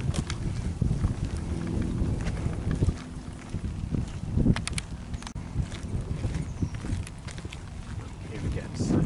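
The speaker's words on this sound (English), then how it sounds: "Sorry, it's a little bit windy here." Constant wind rumble buffeting the microphone outdoors at an abandoned western movie ranch, loud and gusty, with faint voices underneath.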